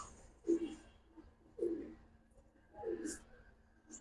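Giribaz high flyer pigeons give three soft, low coos about a second apart, close by in a quiet space with no talking.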